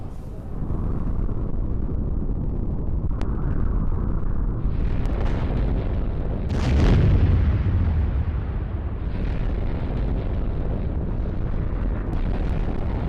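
Explosions from a Russian strike on a Ukrainian weapons warehouse rumble in news footage. Deep booms and bursts come one after another with a low continuous roar, loud and distant-sounding, with no voices.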